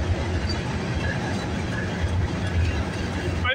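A freight train rolls past Aldershot GO station in Burlington, Ontario, a continuous loud rumble with faint wheel clatter that holds steady throughout.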